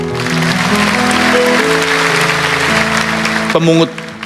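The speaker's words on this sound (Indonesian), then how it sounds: "Kasih tepuk tangan untuk mereka." An audience at a church sermon breaks into applause, a continuous patter of clapping layered over sustained music, rising briefly near the end before fading.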